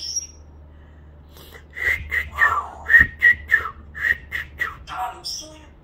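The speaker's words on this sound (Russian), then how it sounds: "Вот так мама свистит" A woman whistles a short tune at home, a run of clear, close, bouncy notes in a quick rhythm over a low steady hum.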